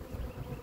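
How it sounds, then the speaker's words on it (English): Honey bees landing at a hive after a package is shaken give off a faint, steady low buzz, soft and continuous, with no talk. "They see the other bees landing there."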